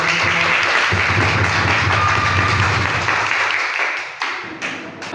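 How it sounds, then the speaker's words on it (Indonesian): Audience applause at a group discussion presentation, a sustained wash of many hands clapping that fades out toward the end. "Kita beri aplaus kepada"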